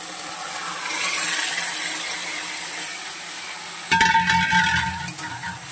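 Mutton being fried and stirred with spices for a red mutton curry, first a steady sizzle, then louder clattering and scraping as the meat goes into the pan, all close up and without talking.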